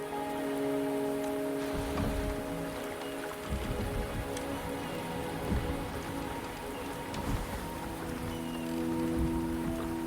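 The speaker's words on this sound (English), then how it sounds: "The rain is subsiding, and the sky will soon clear." Steady rain falls in the video game Wuthering Waves as a dense, even hiss with scattered drops pattering on surfaces over a soft, low ambient drone, with no voices.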